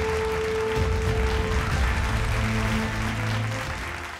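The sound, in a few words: applause for panel discussion guests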